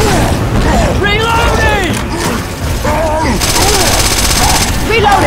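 Loud, sustained gunfire in the zombie shooter Left 4 Dead 2, with rapid shots and mechanical clatter heard under frequent shouting voices throughout.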